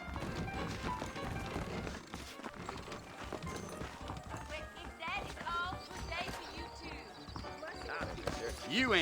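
Horses' hooves clip-clop in the Red Dead Redemption video game, a steady rhythmic trotting running through a busy mix of game music and voices, with a sharper burst near the end.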